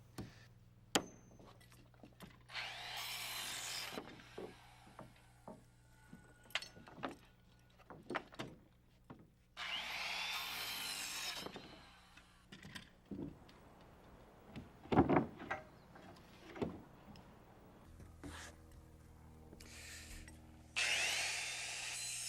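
Lumber being cut and nailed while wall framing goes on, heard as bursts of rasping power saw cutting between sharp, scattered knocks and hammer strikes, with workshop clatter at a low level.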